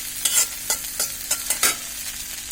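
Garlic being stirred in hot oil in a pan for tomato chutney, a soft background sizzle with about five quick scraping strokes of a spoon, close, with no voices.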